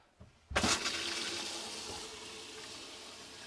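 Hot water gushing steadily from a tap in an Adria Sonic Supreme 700DC caravan, a sudden turn-on followed by a continuous close splashing rush.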